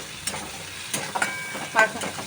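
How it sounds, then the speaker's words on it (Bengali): Chopped ginger and green chilli fry in a pan for khichuri, a soft sizzle broken by a few scraping stirs of a spatula, close and fairly quiet. "মশলাটা এরকমভাবে ভেজে নেবেন"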